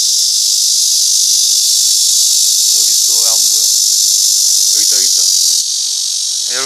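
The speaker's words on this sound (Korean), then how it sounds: "그리고 이렇게 지금 시끄럽게 우는 친구가 말매미입니다." A loud, dense drone of black cicadas (malmaemi), Korea's largest cicada species, fills the whole clip outdoors while someone speaks intermittently over it.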